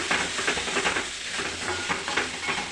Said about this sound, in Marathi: आपण भाजून घेऊया कांदा टोमॅटोबरोबर आलं लसूणची पेस्ट